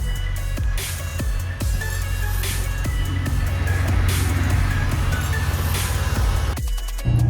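A car driving along, probably a 1993 Honda Civic Si with a B16 engine, gives a steady engine drone and road rumble inside the cabin, with a brief thump near the end and no talking.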